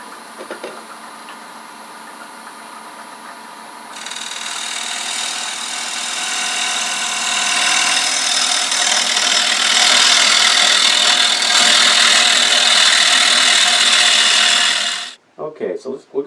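A wood lathe spins while a gouge hollows out a wooden paten, producing a steady hum that turns into a loud, rough, scraping cut partway through, then stops abruptly near the end.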